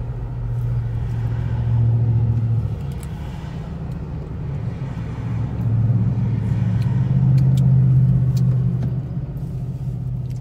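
Steady low rumble of a car driving along a road on the way toward Las Vegas, with a constant engine drone swelling gently in loudness and no talk over it.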